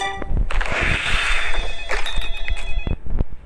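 A telephone rings loudly with a shrill electronic trill, bursts repeating over about three seconds with a few soft thumps.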